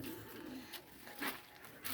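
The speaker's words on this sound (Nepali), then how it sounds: "परेवा छ," Pigeons coo at a farmyard beside cattle and goats, with soft low calls repeating faintly in a rough rhythm over outdoor ambience.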